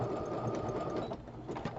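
Sewing machine stitching a boho-style bag, a faint steady mechanical whir with soft rhythmic ticking, quiet and close.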